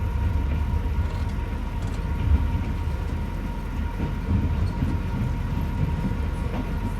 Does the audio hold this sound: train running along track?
yes